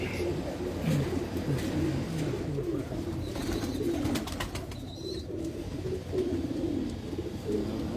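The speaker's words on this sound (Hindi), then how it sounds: "ये देखें जी, हसीन कबूतर है माशाल्लाह।" Pigeons coo in a Lahore loft, repeated low throaty rolling calls from several birds close by, with a few faint chirps and brief clatter in the background.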